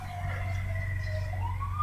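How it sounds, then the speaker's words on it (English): A police car siren wails steadily in the distance outdoors, its tone slowly rising and falling over a constant low rumble, with no talking. "you hear sirens all the time"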